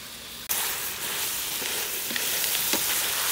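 Goose meat stir-frying in an iron wok gives a loud, steady sizzle that bursts in suddenly and holds, with faint scraping and clinks of the spatula.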